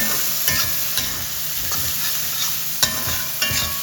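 Cubed onion fries steadily in a hot pan for chilli chicken and fried rice, a continuous close sizzle broken by a few sharp scraping stirs, with no voices.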